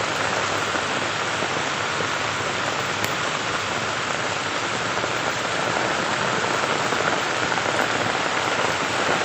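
Steady, dense rain falls without a break on a vegetable garden of string beans and banana plants, a close, even hiss with no voices.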